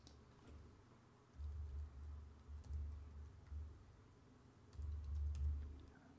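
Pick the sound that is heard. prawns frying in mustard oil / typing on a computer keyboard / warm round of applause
typing on a computer keyboard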